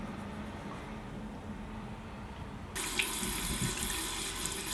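Tap water running into a sink while rinsing the face, a steady close splashing stream that suddenly turns brighter and louder midway.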